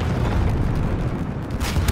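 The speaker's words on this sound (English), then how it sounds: "Explosions, explosions." Heavy explosions from a Modern Warfare video game campaign, a loud, dense, continuous rumble of booms and blasts filling the whole stretch without any talk.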